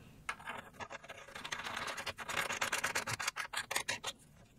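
A Barlow lens is screwed onto an Amscope SM-4NTP-3PL stereo microscope set up for micro soldering, giving close, steady scraping and rubbing from the threads with a quick run of rattly ticks near the end.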